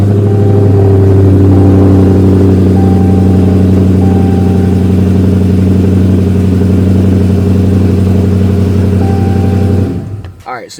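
A Dodge Challenger R/T 5.7 Hemi V8 with Stainless Works long-tube headers starts and idles with a deep, steady rumble, loud and close, then cuts off near the end.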